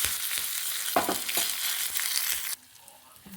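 A tempering of cumin seeds and curry leaves sizzles loudly in a pan for a cucumber tambuli, with a few quick stirring bursts. The sizzle cuts off sharply near the end, leaving near quiet.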